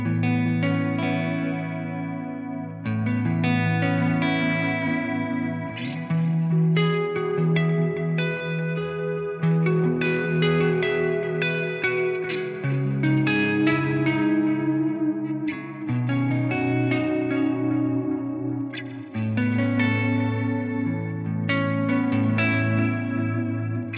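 A guitar through ambient effects pedals into a single-channel amp plays sustained chords washed in heavy chorus, echo and reverb, with a few breaks between swelling ambient phrases and no talking.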